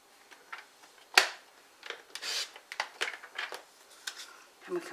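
Card stock being trimmed with scissors or a cutter for a centre pop-up card, a sharp snip followed by several short cuts and paper rustles, close and fairly quiet with brief talk.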